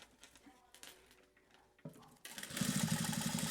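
A sewing machine finishes the seam around a wallet, starting quietly after light handling noises and then running loud and steady in a continuous buzzing burst.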